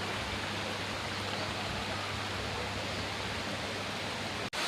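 Water pours down a waterfall in a forest cafe, a steady, full rushing roar that holds unbroken throughout before cutting off abruptly at the end.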